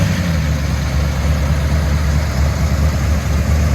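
A 1932 Plymouth with a big-block V8 idles steadily, a deep, even low rumble held close and loud for the whole stretch with no voices over it.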